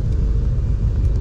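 A 1990 Fiat Uno 1.6R with worn bearings drives along, giving a steady low rumbling drone from inside the car, loud and continuous over the brief moment with no talking.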